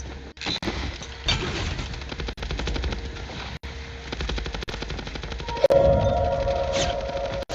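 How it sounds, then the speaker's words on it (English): Rapid automatic gunfire from a Call of Duty Mobile esports league match rattles steadily throughout, with dense overlapping bursts, a few sharper single shots and a brief tonal in-game effect near the end. "Shots coming in from FaZe on top."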